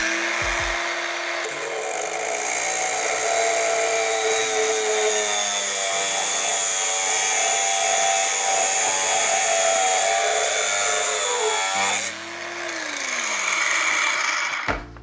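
A newly unboxed power saw cuts through wood, a steady loud grinding buzz that runs continuously for about ten seconds, winding up at the start and dropping in pitch as it slows near the end, with no talk.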